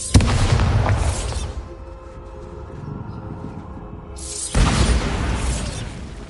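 Two heavy booms from the Bombarda blasting spell in a Harry Potter video game, each a sudden loud broadband explosion with a rumbling tail, separated by a quieter stretch of low ambient game sound.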